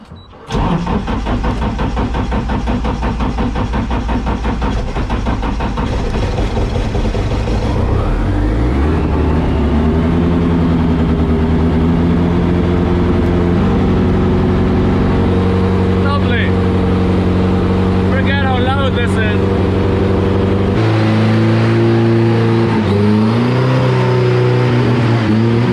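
A 2JZ engine in an S-chassis drift car cranks and catches, then runs loudly with a rough idle, rising and falling through several revs, close by.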